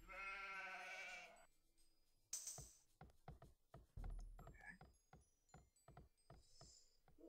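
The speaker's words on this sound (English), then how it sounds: "Hey, my sheep are still here, at least." Sheep in the video game Age of Empires 2 give a clear bleat at the start, followed by a string of quick clicking and ratcheting game interface sounds, close and quiet.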